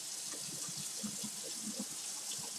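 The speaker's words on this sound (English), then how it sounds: "I thought I poured out all the water, but I didn't." Water sloshes and trickles out of a cooking pot, faint and close, in small uneven splashes and gurgles for a couple of seconds with no talking.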